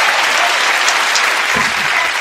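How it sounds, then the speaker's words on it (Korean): Children clapping at a daycare puppet show of The Three Little Pigs, a lively, steady round of small hands applauding close by for a couple of seconds, with no speech over it. "우리 다 같이 삼꾸리 위해서 박수!"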